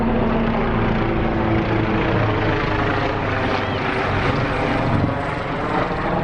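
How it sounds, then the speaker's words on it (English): Helicopter passing overhead outdoors while traveling, a loud continuous rotor and engine roar that fills the scene and holds steady throughout. "the helicopter just went by and everybody kind of stopped and looked up"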